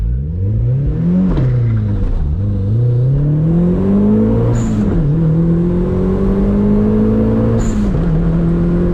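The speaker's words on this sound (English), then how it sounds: "Let's go ahead and get straight into those 0 to 60 pulls." A turbocharged 1.6L Mazda Miata accelerates hard from 0 to 60, its loud engine climbing through the revs with two brief dips at the gear shifts before it pulls again.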